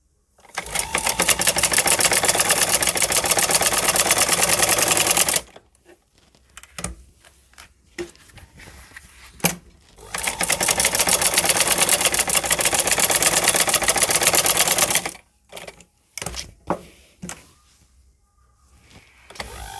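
A sewing machine stitches a double seam on a mohri (trouser cuff) design in two long, loud, fast-whirring bursts, each about five seconds, separated by quieter handling clicks and pauses.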